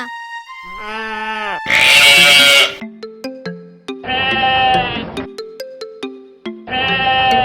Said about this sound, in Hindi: एक चरवाहा लड़का जंगल के पास लाने खेतों में भेड़ों का अपना झुंड लेता था।